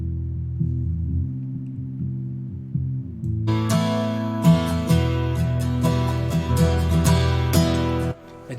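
An electric guitar with a boosted low end plays chords inside a mix. A warm, full-bodied strum sounds first, then brighter percussive parts join in and the sound grows denser before cutting off near the end.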